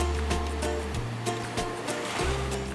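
Ocean surf washing onto a beach where baby sea turtles are being released, a steady rushing wash with soft swells rising and falling, fairly close and continuous.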